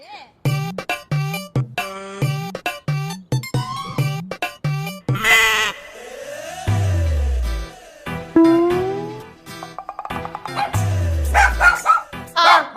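A dog barks and yelps in quick, loud, rhythmic bursts, mixed with bleat-like cries, swooping cartoonish effects and sliding tones in a comedy sketch, all close and prominent.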